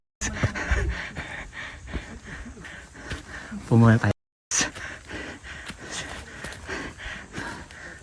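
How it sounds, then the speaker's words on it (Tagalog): Heavy, ragged panting from a hiker climbing a steep mountain ridge, close to the mic and loudest in a brief burst near the middle, mixed with people talking. "Rinig niyo ba yung hingal ko?"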